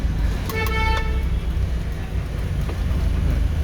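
A car horn gives a couple of short toots over the steady rumble of a moving car on a road, with engine and road noise filling the background throughout.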